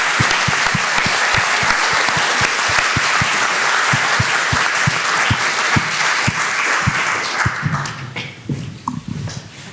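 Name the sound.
audience applause for panelists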